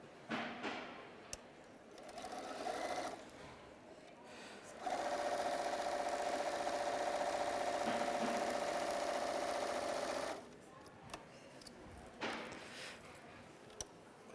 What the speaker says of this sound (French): Le deuxième bloc, je vais le coudre avec ma bande de dessus seulement.